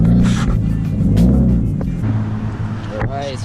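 A widebody Scion FR-S rumbles loudly and close as it pulls in to park, its deep engine note easing off toward the end, where a brief high squeak is heard.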